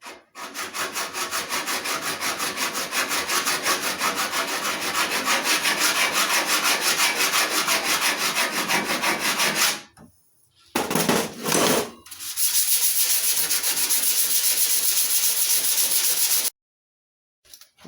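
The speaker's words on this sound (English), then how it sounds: "Put it back on and do some more sanding." Steady hand sanding on an aircraft windshield shell with a polycarbonate and wood frame, for an Avro Speedster: long continuous rasping strokes for about ten seconds, a short pause and brief bursts, then more sanding before it stops.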